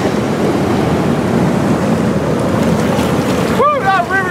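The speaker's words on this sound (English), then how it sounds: "Woo, that river's kicking." Steady, loud broadband rushing of fast-flowing water fills the clip, with a brief burst of birdlike chirps near the end.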